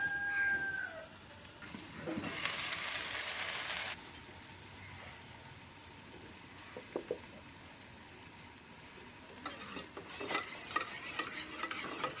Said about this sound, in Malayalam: മുട്ട ഉടച്ചിട്ട് ഇത് ഉപ്പിട്ട് കലക്കി എടുക്കാം